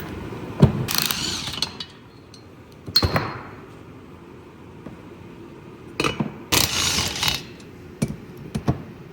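A ratchet with a swivel socket turns a bolt on a large custom three-wheeler build, giving close, sharp bursts of rapid clicking separated by quieter stretches of scattered taps and handling noise.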